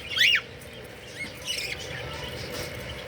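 Texas clearbody budgerigars let out one sharp, close squawk, followed by faint chirps and rustling in a quiet room.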